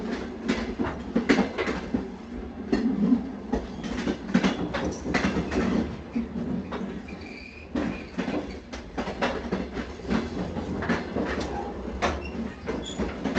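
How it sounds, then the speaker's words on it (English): Inside a moving train in a VR simulation, a steady rumble runs under repeated rhythmic clicks and clacks of wheels on rail joints, moderately loud with no voices. "they would be on a train that is moving"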